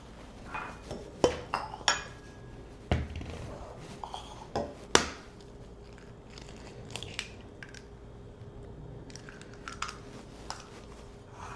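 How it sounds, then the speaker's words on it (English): One egg and an extra egg yolk are cracked into a bowl for brown butter chocolate chip cookies, with a few sharp taps and light clinks against the dish amid quiet kitchen handling. "So now I'm going to crack 1 egg and an egg yolk."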